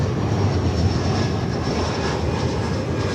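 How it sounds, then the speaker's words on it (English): A steady, loud roar of a fixed-wing airliner's engines at DFW Airport during takeoff, a broad continuous rumble with a faint high whine, no voices. "We've got a whole hassle of aircraft lined up to take off right now."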